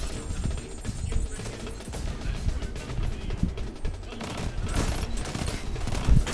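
Go Figure pulse rifle in Destiny 2 fired in repeated three-round bursts, clustered rapid shots with mechanical clatter, loud and close amid game noise.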